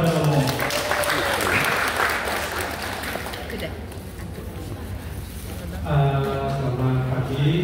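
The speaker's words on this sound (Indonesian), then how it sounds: "Berikan tepuk tangan kepada Romo." A seminar audience applauds with a wash of clapping that peaks early, thins out, and then swells again under voices toward the end.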